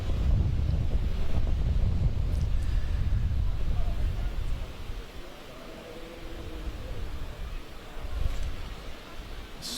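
Steady wind buffets the microphone with a low rumbling roar at an open football pitch, easing slightly midway and gusting again near the end, with faint crowd sounds in the distance.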